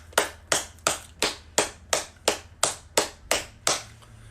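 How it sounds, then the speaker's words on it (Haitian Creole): Crisp, evenly spaced hand claps, about eleven in a steady rhythm roughly three per second, close and distinct with brief pauses between each. "La jeunesse bat bravo pour tout."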